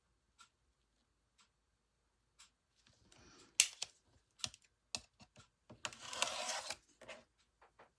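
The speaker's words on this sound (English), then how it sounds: "get my ruler and my rotary blade, and I'm just going to trim off the excess" Rotary blade cutter trimming excess paper along a ruler on a cutting pad while making a recipe book, heard as sparse close clicks and taps building to a few bursts of crisp rolling, scraping cuts.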